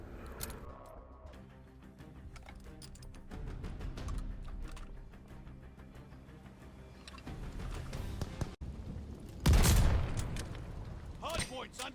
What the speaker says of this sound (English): the sawed-off double barrel shotgun in Black Ops Cold War